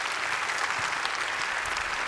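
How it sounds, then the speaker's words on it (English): A big round of applause rises from an audience honoring arts leaders at a classical performing arts event, dense, loud and unbroken from start to finish. "Let's give a big round of applause for our arts leaders"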